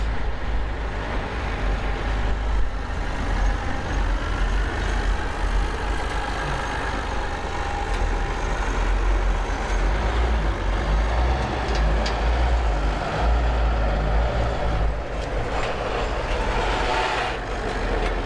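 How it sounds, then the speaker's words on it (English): A dirt truck hauls dirt at a construction site during a plaza renovation. Its engine rumbles steadily and fairly close, with faint beeping, and the sound holds continuous throughout. "this looks like one of the dirt trucks here"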